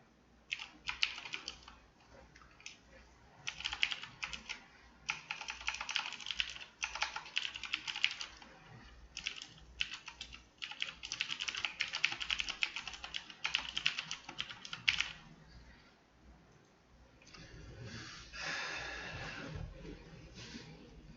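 Quick bursts of typing on a computer keyboard, close and fairly quiet, with short pauses between runs of keystrokes and a softer rustle near the end.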